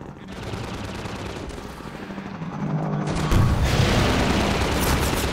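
Rapid gunfire from Half-Life 2 weapons, a dense continuous barrage that swells louder partway through, with a voice speaking faintly beneath the shooting.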